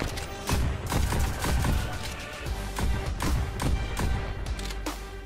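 Rapid bursts of pistol fire in the VR shooting game Pistol Whip, loud close shots cracking in quick irregular volleys over a driving backing track.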